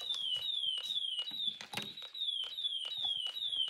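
A homemade Snap Circuits fire alarm powered through a transformer sounds from its sounding device; loud, close, sweeping electronic beeps repeat in a fast, steady rhythm, with a brief clatter partway through.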